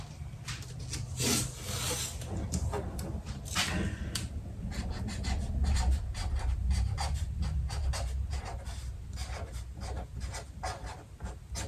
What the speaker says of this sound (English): I'm just going to write morning glory on this